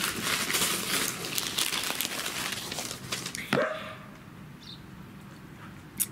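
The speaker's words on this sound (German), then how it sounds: "ich löse jetzt hier erstmal diesen kleinen Aufkleber und das Papier drumherum." A small sticker peeled off a wedding gift box and the paper around it unwrapped, with close crinkling and rustling of paper that stops sharply, leaving quiet with a few faint taps.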